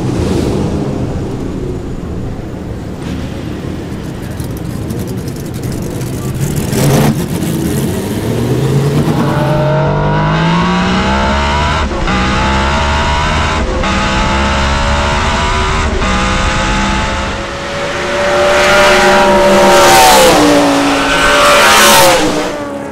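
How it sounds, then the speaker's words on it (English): A BRM 1.5-litre V16 Formula 1 racing car engine revs hard and loud, rising and falling in pitch through repeated throttle blips before roaring up to higher revs. "hopefully everyone will hear a V16"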